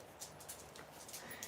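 A dog whimpers faintly indoors, a few soft, thin, high whines spread over a second or two against quiet room noise, with no talking.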